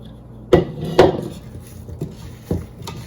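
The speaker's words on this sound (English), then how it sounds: "And then I'm going to dump it into this bowl." Seasoned potatoes tipped into a bowl in a home kitchen, heard as a few distinct hard clunks and knocks against the bowl, two close together then two softer ones, with no talking.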